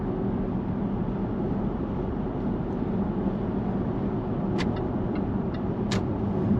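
A Jaguar XF S (X250) cruising on a motorway, with steady broadband road and tyre roar and a low engine hum from inside the cabin, plus a couple of faint clicks near the end.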